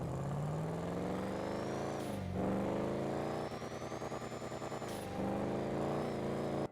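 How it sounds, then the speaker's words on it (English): A Chevelle-style muscle car engine in GTA Online revs hard, its pitch climbing steadily with two brief drops where the gears shift, loud and close throughout. "This is one of the best sounding cars in the entire game"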